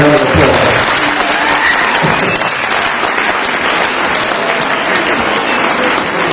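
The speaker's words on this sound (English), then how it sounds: "I think we deserve to give them a round of applause" Sustained, loud applause from an audience at a Martin Luther King Jr. Day program, a dense wash of clapping filling the room for several seconds without letup.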